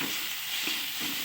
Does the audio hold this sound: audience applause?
no